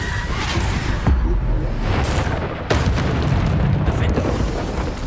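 A Bombarda spell in the game Hogwarts Legacy sets off heavy booming explosions amid loud battle noise, with sharp blasts near one and three seconds.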